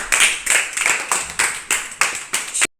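A classroom of children claps in unison: seven sharp, evenly spaced bursts of clapping in a steady rhythm that stop abruptly.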